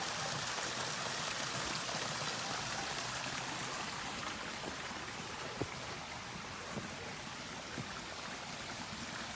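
Garden waterfall running beneath a small footbridge in a mountain garden water feature, a steady soft rushing and splashing that continues evenly throughout, fairly quiet with no voices.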